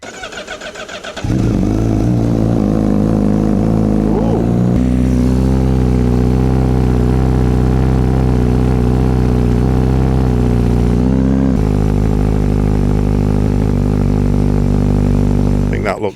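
A Honda CBR1000RR-R SP with an Akrapovic carbon exhaust starts up and revs loudly up close, a deep rumbling idle that rises in pitch through a couple of blips, holding strong to the end.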